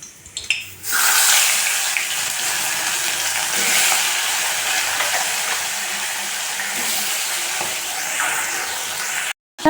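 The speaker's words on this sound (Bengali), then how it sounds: "এখানে কড়াই গরম হয়ে গেছে দিয়ে দিচ্ছি সর্ষের তেল মাছটা ভাজবো বলে" Fish fries in hot mustard oil in a wok with a close, loud, continuous hiss that holds steady for nearly ten seconds before a brief cut at the end.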